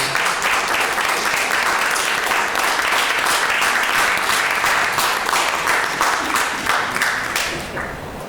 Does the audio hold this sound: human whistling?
no